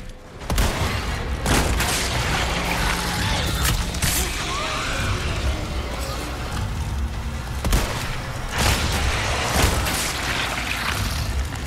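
Rapid bursts of Resident Evil 4 Remake gunfire with sharp shots and booming impacts, loud and continuous over a dense mechanical backdrop, no talking.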